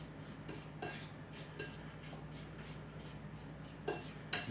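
Food being mashed in a microwave meal tray, soft scraping and light clinks of a utensil against the dish repeating every second or so, quiet and close over a steady low hum.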